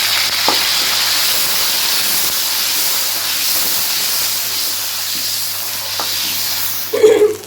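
Ground onion paste frying in a pan for a potato and egg curry gives a steady, close, loud sizzle and hiss throughout, with a louder burst of crackling near the end.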